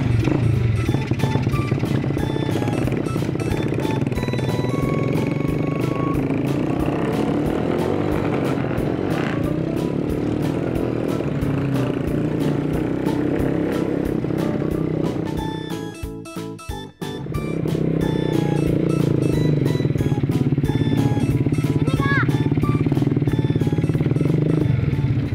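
ATV engine revving continuously on a dirt track, loud and close with a steady throaty drone, dipping briefly to near quiet before roaring back up.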